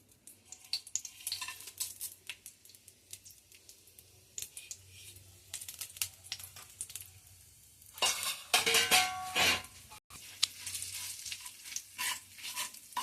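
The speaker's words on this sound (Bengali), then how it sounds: "শুকনো মশলাগুলো সব ভাজা হয়ে গেছে" Whole dry spices crackling in oil reused from frying potatoes, for a palak dum aloo, a quiet close spattering with sharp ticks, rising into a louder burst of sizzling partway through.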